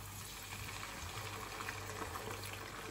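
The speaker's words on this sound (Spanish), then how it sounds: "voy a echar sidra." Cider poured into a pan of chicken with apples, a steady close splashing and bubbling wash of liquid that carries on evenly without speech.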